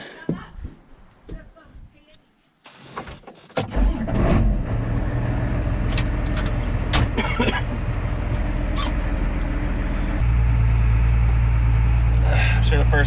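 A skid steer engine starts up on a cold, wet farm and settles into a loud, steady idle close by, rising in intensity near the end, after an opening of coughs and rustling.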